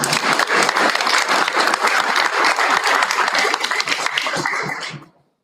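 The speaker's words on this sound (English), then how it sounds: "Another round of applause." Audience at a school board meeting applauds in a dense, continuous round of clapping lasting several seconds before it cuts off abruptly.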